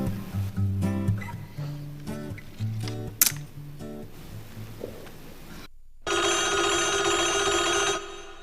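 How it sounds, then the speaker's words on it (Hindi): A telephone rings late at night, a steady bright trill starting abruptly after a stretch of quieter room sound and music-like tones, then cutting off. "ये फिर किसी सरकारी अफसर का फोन होगा"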